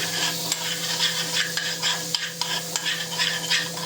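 Butter and grated ginger sizzle steadily in a hot pan, a close, crackling hiss with occasional stirring clicks and pops throughout.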